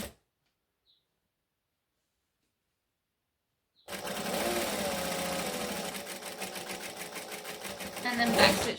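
A sewing machine stitches a large fabric travel bag, its motor whirring in a steady run after several seconds of silence and rising briefly near the end.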